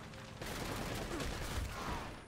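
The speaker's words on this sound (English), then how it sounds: "that is definitely a rocket launcher" Rocket launcher fire and blasts in the video game Uncharted: Drake's Fortune, a dense, loud, sustained barrage of booming impacts and crackling fire lasting about two seconds.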